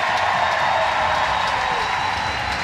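Ice hockey crowd of several thousand at a Challenge Cup semi-final applauding and cheering, a dense, steady wash of clapping and voices filling the arena throughout.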